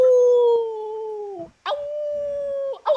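A performer on an improv comedy stage imitates a dog howling, two long sustained vocal howls, the first sliding slightly downward, then a short rising yelp at the end, loud and close with no other talk.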